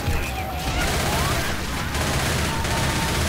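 Rapid gunfire bursts in a video game, a steady loud barrage of shots running through the whole stretch with game noise around it.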